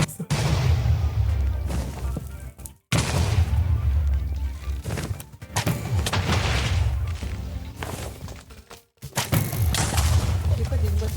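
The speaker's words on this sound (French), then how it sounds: "les lits, quand tu dors dans le Nether et dans l'End, ça explose" Beds exploding in Minecraft's Nether or End: repeated heavy booming blasts with rumbling tails, several bursts separated by brief silent gaps, loud and close, with talk at moments.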